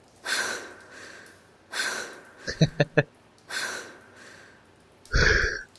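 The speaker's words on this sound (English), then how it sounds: "she's panting like crazy." A female character in the Silent Hill 3 video game pants heavily in repeated breathy gasps at a steady rhythm, with a few short sharp game sounds partway through.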